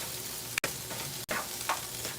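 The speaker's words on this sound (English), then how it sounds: "But I'm going to saute my veggies." Spinach and mushrooms saute in a pan, giving a soft, even sizzle with light crackles, briefly cut off twice before continuing.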